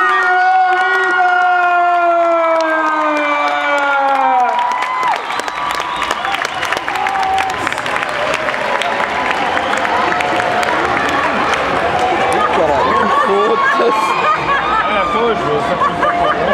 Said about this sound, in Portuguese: Uma grande salva de palmas para a vida!